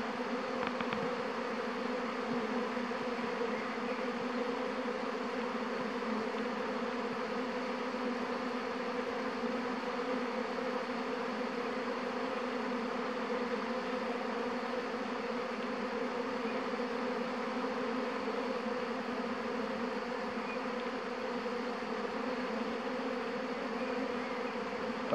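A honeybee swarm pours out of the hives about a metre away, a dense, steady buzzing drone that holds loud and unbroken throughout, with no talking.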